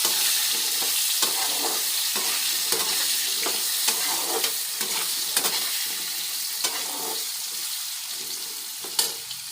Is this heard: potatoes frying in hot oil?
yes